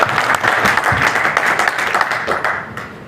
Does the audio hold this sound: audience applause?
yes